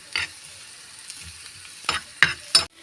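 Leftover chapati veg roll frying in oil in a pan, a faint low sizzle broken by a few short bursts of scraping and spatter toward the end.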